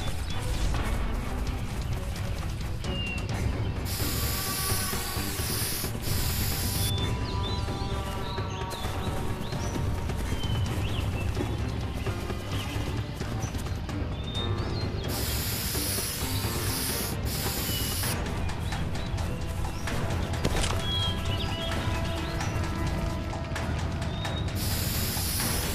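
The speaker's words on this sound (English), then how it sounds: "Fine, spray those tags." Repeated bursts of spray-can hissing as graffiti tags are painted in the video game Call of Juarez: The Cartel, each spray a few seconds long with rattling and background game music and ambience underneath.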